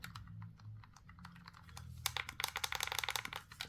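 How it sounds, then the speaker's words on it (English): Clicky buttons on an R50s retro handheld game console, pressed in quick, sharp bursts that grow into a rapid clattering run, close and quiet. "Clicky buttons as always"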